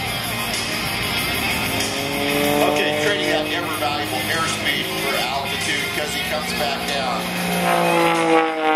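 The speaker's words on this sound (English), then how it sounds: "That howling noise you hear on the tips of the propellers, they go supersonic." An aerobatic plane with a direct-drive engine performs at the Cable Air Show 2011, its propeller tips howling as they go supersonic, a loud, steady whine with rising tones while an announcer talks over it.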